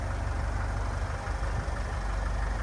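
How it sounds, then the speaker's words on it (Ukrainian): The 2.0-litre diesel engine of a 2011 Renault Trafic van idles nearby with a steady low rumble and even throbbing rhythm, continuous and unchanging throughout. "Зараз буде чути роботу мотора"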